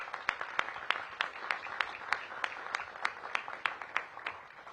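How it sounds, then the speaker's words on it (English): An audience at a police chief nomination event applauds, a dense, even patter of claps with sharp individual snaps standing out, held at a steady level throughout with no voices over it. "Give them a big round of applause."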